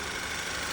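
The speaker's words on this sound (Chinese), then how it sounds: "这台发动机的声音，你们听一下" A rebuilt Audi EA888 engine runs at idle, producing a steady, even mechanical hum heard up close for a brief moment, with no voices.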